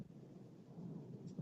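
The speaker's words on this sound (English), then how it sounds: "I just saw the weather get dark and lightning and thunder, all of these things going on." Thunder rumbles low and faint during a dark storm with lightning, a soft, sustained growl swelling slightly toward the end, heard alone without voices.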